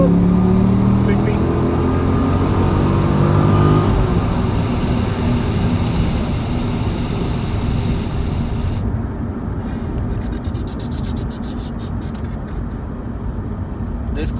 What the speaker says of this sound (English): This car has no problem catching up to speed.